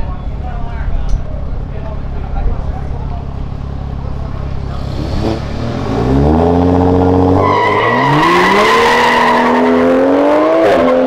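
A pink BMW at a racing event idles with a deep rumble, then revs hard and accelerates with a rising, roaring engine note and loud squealing tires that build to the end.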